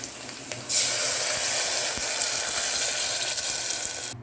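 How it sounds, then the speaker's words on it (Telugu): Water poured into a pot of sautéed rice for seasoned salt rice, about four glasses of it: a sudden steady rushing pour that runs for several seconds and then stops. "ఇలా బాగా వేగిన తర్వాత 2 గ్లాస్ రైస్కి 4 గ్లాస్ వాటర్ అనేది యాడ్ చేసుకోవాలి"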